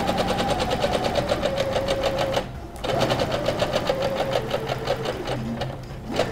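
A sewing machine stitches a decorative cushion in a steady, rapid needle rhythm, pausing briefly once and then resuming at the same close, even pace.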